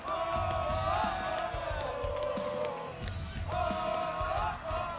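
Spectators at a freestyle cliff diving competition roar and cheer steadily, a dense wash of crowd noise with whoops and shouts that swells again toward the end.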